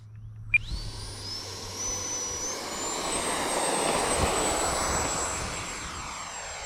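An E-Flite 90mm Viper RC jet with an electric ducted fan takes off at full throttle, starting with a rising high-pitched whine that builds into a loud, steady roar as it climbs away.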